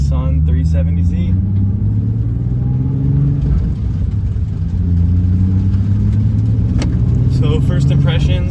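A 2017 Nissan 370z drives along with a loud, close engine drone whose pitch rises and falls through gear changes, steady road rumble underneath.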